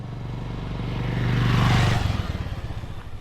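A motorbike passes on a hillside road in rural Uttarakhand, its engine droning steadily, swelling louder as it nears, then rumbling and sputtering as it draws away.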